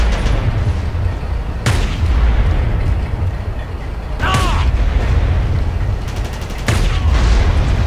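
Cannon fire in the video game Battlefield Vietnam booms several times at irregular intervals, with loud blasts over a steady rumbling engine bed.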